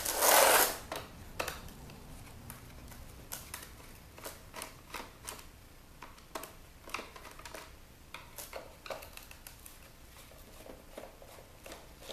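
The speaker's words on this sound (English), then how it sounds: "So now, first thing we gotta do is remove all the screws on the back." Screws being worked out of the back casing of a rusty LeapPad children's toy during e-waste scrapping: a quiet run of small, irregular clicks and scratchy ticks after a brief loud burst at the start, close up with no talking.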